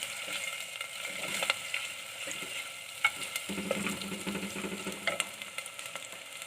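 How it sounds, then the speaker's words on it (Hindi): Ginger garlic paste frying with onions in a pan for Pakistani dal mash, a steady close sizzle with occasional stirring scrapes and clinks, no talking. "1 मिनट के लिए भूनेंगे।"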